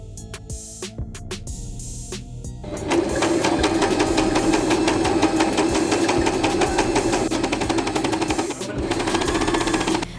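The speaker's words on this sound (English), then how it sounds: "Then I sew it to the upper edge of the shorts." Close, steady mechanical whirring from a sewing machine running a zigzag stitch that attaches a strap to the upper edge of cosplay shorts, starting after a few seconds of quieter clicks and continuing unbroken.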